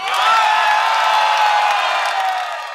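Fans at an open-air amphitheatre rap concert scream and cheer loudly for the performers, a thick wall of shrieks and whoops that holds steady before easing slightly at the end.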